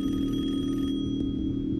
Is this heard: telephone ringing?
yes